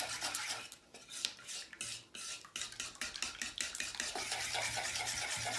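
Liquid chalk paint stirred briskly in a container, with close, repeated scraping and clinking of the utensil against the sides in an uneven rhythm that grows steady and continuous toward the end.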